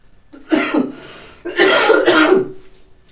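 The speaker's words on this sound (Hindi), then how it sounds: "सॉरी, आज खांसी आ रही है" Two bursts of harsh coughing, a short one followed by a longer, louder fit, close to the microphone with no talking.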